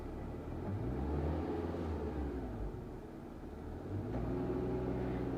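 A Honda Amaze CVT car with an RPM fluctuation and unwanted-noise problem is revved up from idle, its engine droning in a steady mid-pitched rumble that rises, eases and rises again.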